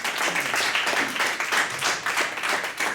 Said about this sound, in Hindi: तो आपकी जोरदार तालियों के बीच में बुलाना चाह रहा हूं हमारे पहले पार्टिसिपेंट कोच इंदु बाला